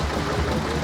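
A Southern Cross tank-cooled stationary engine idles smoothly, a steady low rumble close by with no voices over it.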